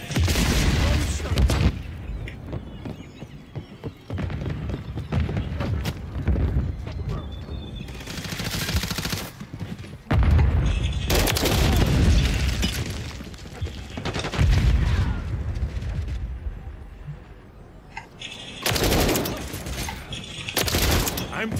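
Bursts of automatic and single gunfire in a shooter game crack and boom in loud, repeated volleys with short lulls between.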